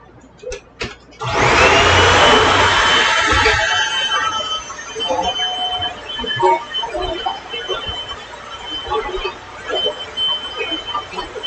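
A vacuum cleaner cleans the floors of a small entryway at home, starting with a few clicks before the motor roars up loud and close, then continuing with shifting tone as it moves around.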